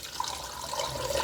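Ten cups of water pour into a pot of chicken stock for homemade chicken pickle soup, a steady, moderately loud rushing splash that lasts just over a second without a break.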